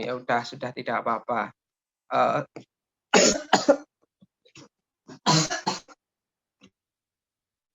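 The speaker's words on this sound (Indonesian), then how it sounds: "Bapak sedikit batuk ya" Someone speaks briefly, then coughs several times in harsh bursts separated by pauses, close and fairly loud.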